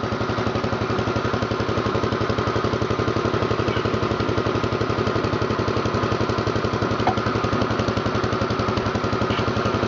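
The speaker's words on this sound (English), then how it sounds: "it's a nice sounding machine. Engine doesn't smoke, which is always good" A Power King garden tractor engine idles steadily up close, a loud, even, rapid chugging pulse that holds without change throughout.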